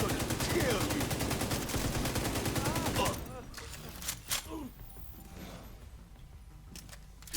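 Dense automatic gunfire in The Division 2 rattles continuously for about three seconds, then gives way to a few scattered shots and mechanical clicks with faint voices in the background.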